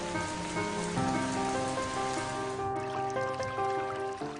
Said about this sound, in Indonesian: Musim hujan tiba, bencana banjir bisa mengancam jika kita tidak waspada.